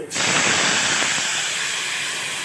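Dissolved tamarind water hits hot tempering in a pan for neem flower rasam, bursting into a loud, sudden sizzle that settles into a sustained steamy hiss, close and without talk.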